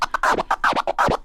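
DJ turntable scratching with a double click flare, the crossfader chopping each record stroke into quick, choppy bursts of rising and falling scratch tone, loud and close with no voice.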